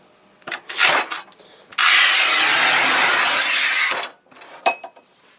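A RUBI HIT-1200 N or Shijing 1352 tile cutter cuts tile in a loud, steady grinding rasp of about two seconds, with short scraping and handling noises before and after.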